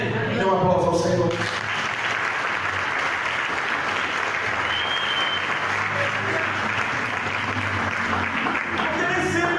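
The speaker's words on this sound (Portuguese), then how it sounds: "Dê um aplauso ao Senhor" Sustained applause fills a church service, a dense, steady wash of clapping from the congregation that lasts several seconds, with someone speaking briefly at the start and again at the end.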